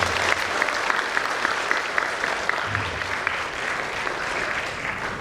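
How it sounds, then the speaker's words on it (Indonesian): Audience at a graduation and oath-taking ceremony at Politeknik Bhakti Kartini applauds, a dense steady patter of many hands clapping throughout at moderate loudness. "Tepuk tangan buat kita semua."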